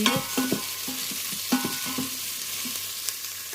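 Spoon stirring beef stew with ginger and lemongrass in a pot on a sizzling stove, a run of close, quick metallic scrapes and knocks over steady frying hiss, no voices.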